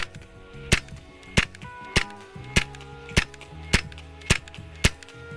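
A Hatsan Invader .25 semi-automatic air rifle fires H&N Hornet slugs at a 30-yard target, eight sharp, close cracks at a fairly even pace of just under one per second, with quiet background between shots.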